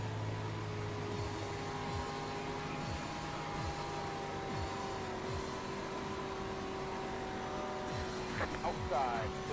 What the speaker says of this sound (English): Group of faster cars approaching.